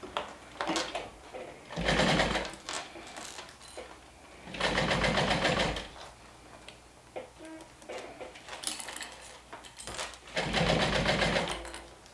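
A sewing machine stitches slowly around a curve on the main front piece of a LindSport sew-along garment, running in three short, steady bursts separated by quiet pauses.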